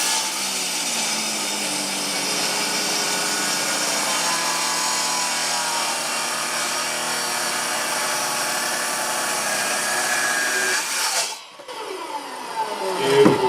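A saw cuts through Arizona ash wood in one long, steady grinding rasp, loud and continuous, then stops abruptly near the end, followed by brief scraping and handling noises.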